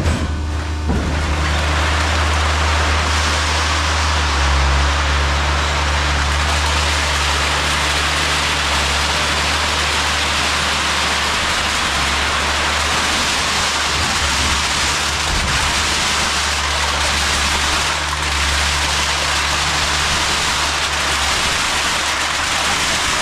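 An industrial aluminum can baler with its conveyor belt feeding and compressing cans: a loud, continuous machine roar with a low engine-like drone and dense rattling hiss throughout, steady with no breaks or voices.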